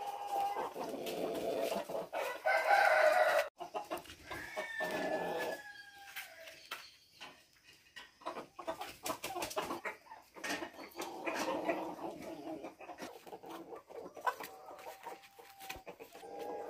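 Backyard chickens cluck and murmur while pecking at feed spilled over plastic sheeting, a busy low chorus with occasional louder squawks and rustling, fairly close and faint overall, no talking.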